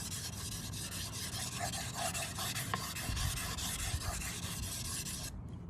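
Steady, continuous rasping strokes of a one-sided knife blade drawn across a sharpening stone, close and loud, running evenly before stopping abruptly at the end.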